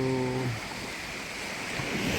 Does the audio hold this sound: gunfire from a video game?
no